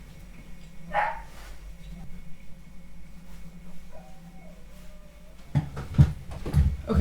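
A puppy barks indoors with a few short, fairly close yaps and yips near the end, following a quieter stretch with a low hum and faint sounds.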